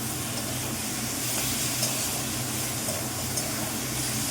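Meat fat sautéing in a little oil in a pan, a steady loud sizzling hiss with soft crackles throughout, close and continuous with no talking.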